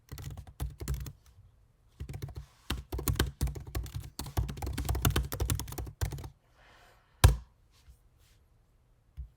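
Fast clattering keystrokes on a computer keyboard in close, dense bursts with short pauses, then a few isolated key taps and one louder thunk near the end.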